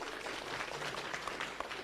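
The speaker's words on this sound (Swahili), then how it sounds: "Makofi hapo." At a political rally with musicians in Murang'a County, a crowd gives a brief, steady burst of applause, dense clapping heard from a short distance.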